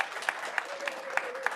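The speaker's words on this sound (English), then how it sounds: "let's give her a round of applause" Steady applause from a crowd, a dense patter of clapping with a few sharper claps standing out at a regular beat.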